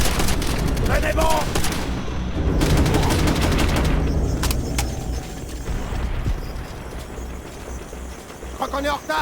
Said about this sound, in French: Mitrailleuse dans les bunkers!